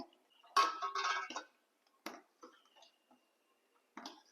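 Jaggery is stirred in a cooking pot for urad dal porridge, heard as a few short, scattered scrapes and clinks of a utensil against the pot, with long quiet gaps between them.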